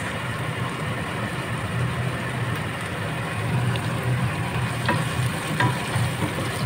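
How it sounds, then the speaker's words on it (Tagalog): Chopped onions frying in a pan for fried rice, a steady close sizzle with light stirring scrapes throughout. "Isunod natin ang ating chopped onions, ang ating hiwang pinagtad na sibuyas"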